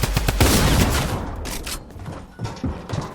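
A pump shotgun fires several shots in a Fortnite-style creative match: a cluster of loud close blasts in the first half second, then scattered quieter shots and impacts.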